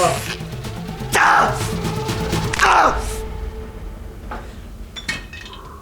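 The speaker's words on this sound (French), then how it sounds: "Attends, faut qu'il fasse la vaisselle." Dishes and pans clink and clatter during dishwashing, a couple of sharp metallic knocks standing out, while people talk and exclaim close by.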